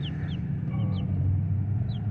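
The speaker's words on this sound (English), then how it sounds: "Oh, these are black bantams." Newborn black bantam chicks chirping in a few brief, high, sweeping peeps over a low steady rumble, close by, with no talking.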